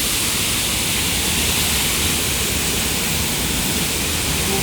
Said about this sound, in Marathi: आणि इकडे बघा धबधबा.